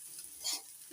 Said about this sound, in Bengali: একটু নাড়াচাড়া করে ভেজে নিচ্ছি